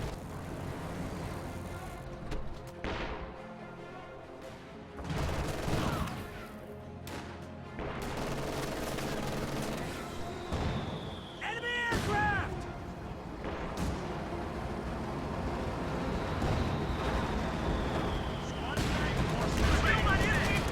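Battle audio from a WWII strategy video game with a Sherman tank, airborne squads and a machine gun position: scattered gunshots and crashes under steady combat rumble, with a voice talking through much of it.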